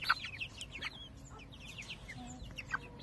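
A young rooster chick with a dark, mulberry-like comb gives a few faint, scattered clucks and chirps over low background noise, with no talking.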